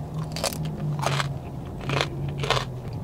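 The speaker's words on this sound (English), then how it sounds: "Crunchy skin, delicious." Crispy roast pork skin from a Hawaiian market cracks under repeated bites, four distinct close crunches spaced evenly over a few seconds, each followed by brief chewing, with no talk.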